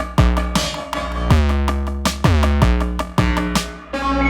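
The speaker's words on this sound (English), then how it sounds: "So everything that's coming out of the Nord drum will be a square wave." Square-wave tones from a Nord Drum 3P synthesizer play a loud, buzzy electronic pattern of pitched hits with downward pitch sweeps, about nine strikes in a loose rhythm, with no voices.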